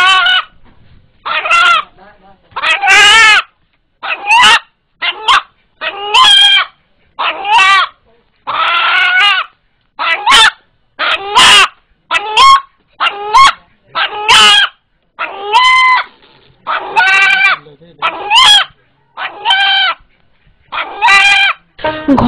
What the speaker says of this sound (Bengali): ভয় পেলেই মোরগটি যেভাবে ডেকে ওঠে সেটাকে আল্লাহ আল্লাহ শব্দের সাথে